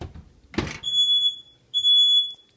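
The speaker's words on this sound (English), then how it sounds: "now my fire alarm is going off" A shrill home fire alarm sounds in two long, piercing beeps in a kitchen while food cooks in the oven, after a brief rustle, loud and close.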